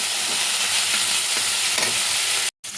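Capsicum, carrot and onion stir-fried in oil in a wok: a steady, loud broadband sizzle with faint scraping stirs, broken by a brief silent gap near the end.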